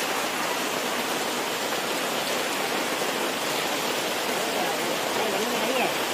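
Heavy rain pours down on a large festival pavilion at a Dussehra celebration, in a dense, unbroken hiss that stays loud and even throughout.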